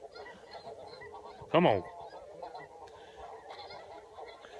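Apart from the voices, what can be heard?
geese honking while flying in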